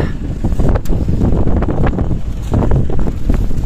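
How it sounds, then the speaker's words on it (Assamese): Strong wind blasts across a high mountain pass near Tawang at about 13,700 feet, roaring loudly and continuously as gusts buffet the microphone for the whole stretch. "বাপৰে বাপ কিমান বতাহ দি আছে"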